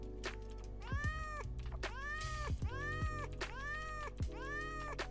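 Cat in Thief Simulator 2 meowing repeatedly, about five clear, drawn-out meows in an uneven rhythm, fairly close and prominent over a low background hum.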